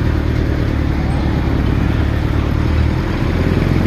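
Heavy, slow-moving road traffic in San Narciso, Zambales, a loud constant mix of car and motorcycle engines idling and creeping nearby, with low rumble and occasional clatter, no talk.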